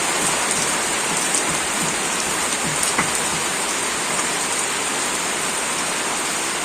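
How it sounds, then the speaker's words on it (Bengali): Heavy morning rain pours down in a village, a loud, dense, unbroken hiss of drops striking surfaces, steady throughout with no voices. "প্রচুর পরিমাণে বৃষ্টি।"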